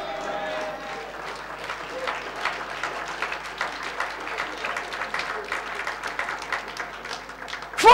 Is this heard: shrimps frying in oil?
no